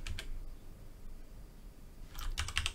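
Keystrokes on a computer keyboard typing a command into a Windows command prompt, with a few isolated clicks early on, a quiet stretch, then a quick burst of close, crisp key presses at the end.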